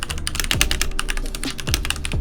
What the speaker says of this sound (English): I'm just going to let you hear a typing test